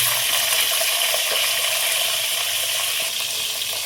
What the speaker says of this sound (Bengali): সিমগুলো ভাজার জন্য দিয়ে দেবো,